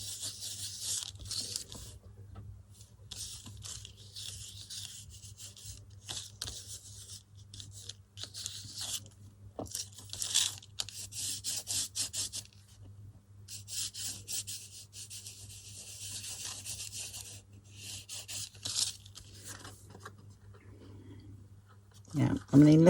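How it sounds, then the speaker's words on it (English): A fingertip rubs gilding wax over embossed kitchen foil, giving soft, close, intermittent scratchy rubbing strokes against a steady low hum, with quiet bursts and no talk over the rubbing. "I have to use my finger when I apply gilding wax."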